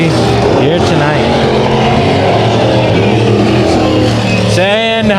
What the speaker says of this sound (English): Lee Jensen and the number 20S machine will round turns number 3 and 4 to the checkered flag